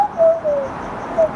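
A bird held in someone's hands gives a few soft, low coos, three or four short notes close by against a quiet background, with no talk.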